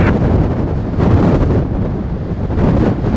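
Strong gusty wind buffets the microphone at an airport runway during a Boeing 777 crosswind landing in Toronto, a loud continuous rumble that swells and eases in gusts.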